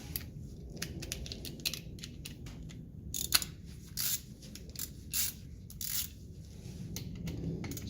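A 15mm socket wrench ratchets in quick bursts of sharp metallic clicks while tightening a brake caliper bolt on a Toyota Camry, with short pauses between strokes over a quiet background.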